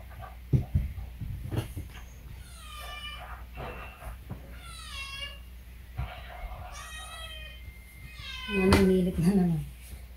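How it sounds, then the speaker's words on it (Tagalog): A house cat meows several times in drawn-out, rising calls, close by, with a louder low growling yowl near the end; a person talks quietly in between. "Ayan yung pusa, narinig nyo."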